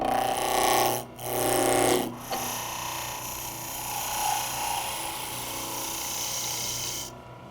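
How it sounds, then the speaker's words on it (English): A wood lathe spins a Christmas ornament blank while a spindle roughing gouge rounds it into a cylinder, giving a steady close whirring hum with a scraping cut. Two brief dips sound near the start, then the cut resumes to the end. "I can finish turning the blank into a cylinder using my spindle roughing gouge."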